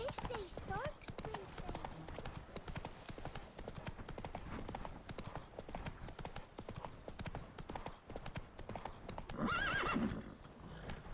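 Roach, the horse in The Witcher 3: Blood & Wine, gallops with a rapid continuous clip-clop of hooves and a whinny near the end, while a voice talks over the hoofbeats.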